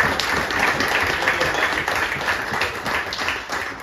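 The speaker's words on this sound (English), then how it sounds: "Just have a round of applause for the leader." An audience at a carp fishing festival prize-giving applauds the overall winner with steady, dense, continuous clapping at an even loudness throughout, with a few voices faintly mixed in.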